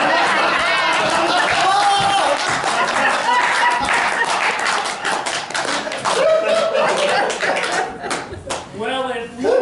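A panel audience laughing and clapping, scattered applause mixed with chatter and chuckles that swells and fades, with voices rising over it near the end.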